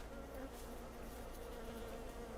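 Bees buzz in the Farming Simulator 22 video game: a quiet, steady insect drone with faint tonal hum, continuous and alone.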